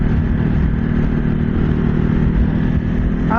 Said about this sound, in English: the engine does feel very peppy, but it's not as smooth as that one